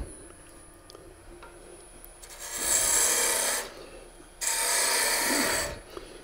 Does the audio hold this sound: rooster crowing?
no